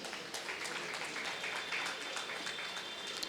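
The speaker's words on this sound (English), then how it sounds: "a big round of applause to the team for that" An audience claps for a charity team at a Ramanavami celebration evening, a steady wash of applause filling the whole moment at moderate level.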